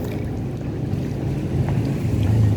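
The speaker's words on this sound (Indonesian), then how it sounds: "Cuma anginnya kencang sekali ya." Strong wind buffets the shore at a seaside fishing spot, a constant loud roar of gusts and microphone rumble with surf mixed underneath.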